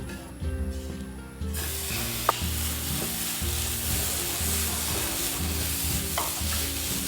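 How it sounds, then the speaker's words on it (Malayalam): Tomatoes dropped into a hot pan burst into a loud, steady sizzle and frying hiss, close up, with occasional stirring clicks, for a duck egg roast. "ചൂടായി ഇനി നമുക്ക് തക്കാളി ഇടാം"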